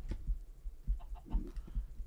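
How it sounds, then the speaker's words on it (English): A Minecraft chicken clucks in soft, scattered bursts, quiet and close, with faint game ambience between the calls. "Come here, chicken."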